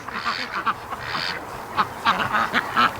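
Young free-range ducklings quack in scattered, boisterous bursts near a lake at evening, the calls uneven and fairly close, with a person talking faintly between them.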